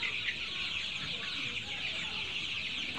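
Brown chickens in a poultry shed with litter on the floor cluck steadily as a soft, continuous flock chatter, fairly faint and distant, with no talking.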